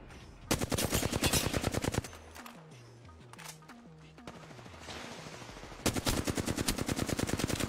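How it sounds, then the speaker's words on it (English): Gunfire in the video game Apex Legends: two long, loud bursts of rapid automatic fire bracket a quieter stretch of lower game sounds in between. "Opening fire on the enemy."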